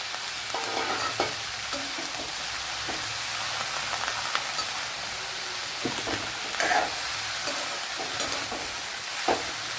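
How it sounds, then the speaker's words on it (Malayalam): Freshly cut okra (vendakka) frying in a pan for thoran, giving a continuous bright crackling sizzle with occasional soft scraping knocks as it gets stirred, close by and free of speech. "ഇതിലേക്ക് ഈ വെണ്ടയ്ക്ക കട്ട് ചെയ്തത് ചേർത്ത് കൊടുക്കുക"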